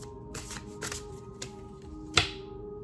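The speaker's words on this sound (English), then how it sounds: "So let's get another card on that." Tarot cards are shuffled and drawn in a few soft riffling flutters, closing in one sharper snap of a card, close and quiet, with no voice over them.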